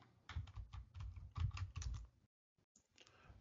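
A command typed on a computer keyboard at a Linux terminal: a quick run of soft, close key clicks for about two seconds, then a brief pause and a few final taps, quiet and without talk.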